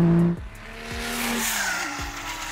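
A 1900bhp Nissan GTR passes close and loud with a brief high tire squeal, then a rising engine roar and whine that holds steady through the rest.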